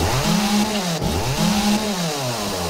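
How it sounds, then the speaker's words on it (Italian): A chainsaw in the survival video game 7 Days to Die runs loud and close, its engine revving steadily in repeated rising and falling swells with no talking. "Giustamente la motosega fa un casino della Madonna, oltre che un danno della Madonna."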